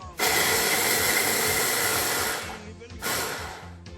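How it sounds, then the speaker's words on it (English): A small handheld KitchenAid chopper whirs through onions in two bursts, a long loud buzzing run that cuts off, then a short second pulse, close up with no talking. "And that's how quick you chop up the onions."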